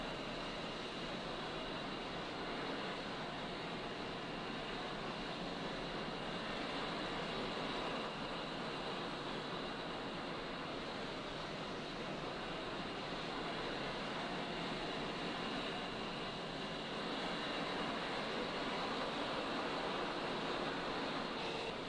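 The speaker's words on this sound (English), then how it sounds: "you can tell on the gauge that it's running up. I take it you have the A10 here, Rox?" An A-10 Warthog jet engine spooling up in the DCS flight simulator, a steady, continuous broadband whine and roar that holds level and strengthens slightly near the end, with no talk.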